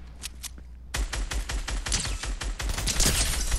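Rapid automatic gunfire in a shooter game: a few faint shots, then a loud, sustained burst of fast cracking rounds lasting nearly three seconds.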